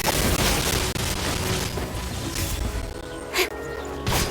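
Firework explosions in the Genshin Impact video game pop and boom in a dense, noisy burst of game effects, with a sharper crack near the end.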